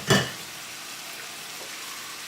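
Big steaks go into a hot skillet, two at a time, for a sweet onion mushroom steak. A sharp burst of sizzle opens right away and then settles into a quieter, steady hiss.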